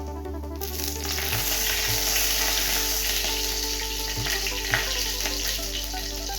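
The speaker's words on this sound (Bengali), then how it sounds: "এবার কড়াইয়ে সর্ষের তেল গরম করে নিলাম। জিরে, শুকনো লঙ্কা আর তেজপাতা ফোড়ন দিয়ে দিলাম।" Cumin, dried chili and bay leaf temper in hot mustard oil in a kadai, making a loud, continuous crackling sizzle close by with a low steady hum underneath.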